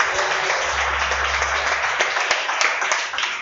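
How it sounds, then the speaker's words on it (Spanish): A church congregation applauds during a morning service, a loud, dense wash of clapping filling the room and thinning toward the end, with a low hum beneath. "Dale un aplauso fuerte a Cristo en esta mañana."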